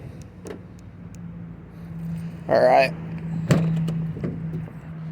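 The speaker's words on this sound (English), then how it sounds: "Let's unlock the car." A car is unlocked outdoors on a cold winter day: a short bright electronic chirp, then a sharp mechanical click, over a low steady hum, with a brief spoken word nearby.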